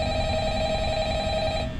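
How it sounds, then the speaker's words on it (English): Business telephone ringing in the Five Nights at Freddy's video game, a steady electronic ring with bright sustained tones held throughout over a low background rumble, no voices. "Am I supposed to answer the phone?"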